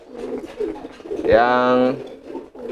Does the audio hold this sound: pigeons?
yes